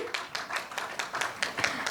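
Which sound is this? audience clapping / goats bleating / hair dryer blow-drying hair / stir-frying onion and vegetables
audience clapping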